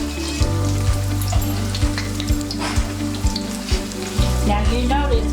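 Salmon slider patties fry in shallow oil in a pan, a loud, steady sizzle close up with soft periodic bumps and stirring-like knocks, and no voices.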